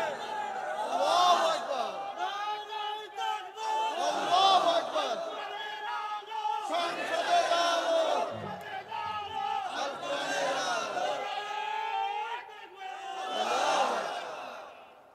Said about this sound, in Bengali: আরে ভাই যুবকেরা কই তাকবীর দাও না